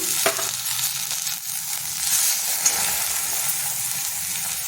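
Chopped tomatoes with salt sizzle steadily in a hot pan for palak pulao, a continuous bright frying hiss with a couple of faint stirring touches, close and without talk.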